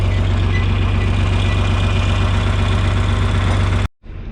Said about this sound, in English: It's a nice day to go for a tractor ride out through the pasture.